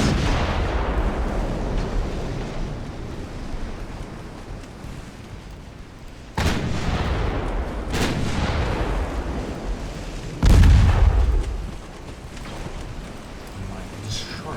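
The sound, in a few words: naval gunfire in the video game Ultimate Admiral Dreadnoughts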